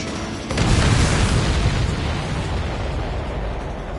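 Missile explosions in the aerial combat video game Ace Combat 7 erupt as a loud, dense roaring boom that starts after half a second and rumbles on steadily without any talk.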